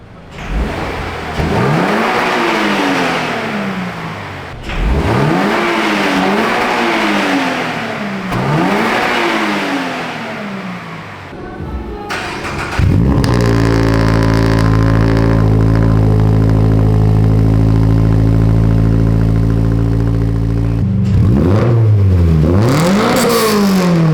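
Loud car engine revving through a new aftermarket Remark exhaust in repeated bursts, a few sharp throttle blips, then a sustained high idle drone before another quick rev at the end.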